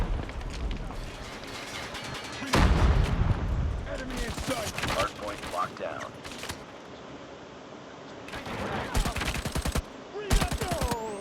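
Rapid bursts of video game gunfire, loud automatic volleys in several clusters, with people talking over and between the shots.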